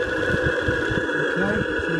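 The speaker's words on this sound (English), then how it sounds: "It's a really lovely engine this is." A running Martine Howes & Baylis steam engine gives a steady mechanical hum, with low, rhythmic thumping pulses beating underneath at close range.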